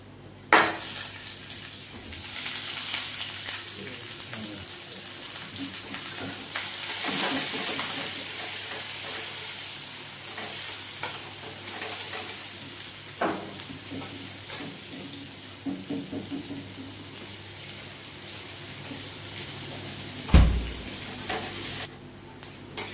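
Chopped onion hitting a pan of fried ginger and garlic, a steady sizzle with spatula stirring and clinks of cookware, ending in a sharp knock against the pan.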